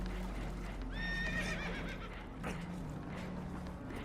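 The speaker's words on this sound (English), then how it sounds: "Horses are spooked, and we're taking on water." Spooked horses whinny in Red Dead Redemption 2 aboard a boat taking on water, one shrill, quavering neigh rising over a low rumble, followed by hoof clatter and a faint snort.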